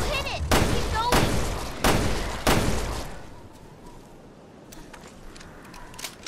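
Gunshots fire in the video game Resident Evil Revelations 2, four sharp, loud blasts spaced about a second apart, followed by faint ticking game sounds and a quiet background.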